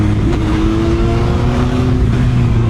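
A CFMOTO 750 SR-S motorcycle engine revs close up, a loud steady drone with rising tones and no speech over it.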